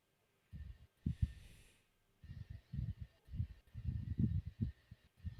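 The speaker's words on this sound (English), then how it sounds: "A steady, slowly increasingly loud heartbeat." A steady heartbeat sound effect thumps in paired low beats, quiet at first and gradually growing louder as the pulses come closer together.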